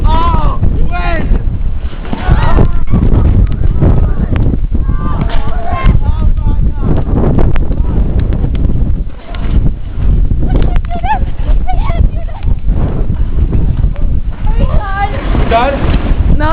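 Wind in a blizzard batters the microphone with loud, constant buffeting, while several people shout and talk excitedly over it.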